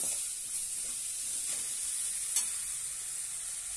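Chopped tomato sautéing in a pan for a black-eyed pea, brinjal and potato curry, giving a steady soft sizzle and hiss with faint stirring scrapes throughout, no talking.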